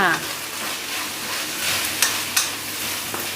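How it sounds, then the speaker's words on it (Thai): About two and a half tablespoons of garlic stir-frying in a pan over medium-low heat, a steady close sizzle with a few light clacks of a spatula against the pan. "กระเทียมลงไปนะคะ ประมาณสักสองช้อนโต๊ะครึ่งค่ะ ผัดค่ะ"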